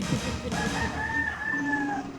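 A rooster crows once in a long drawn-out call, close and loud, over a steady background hum.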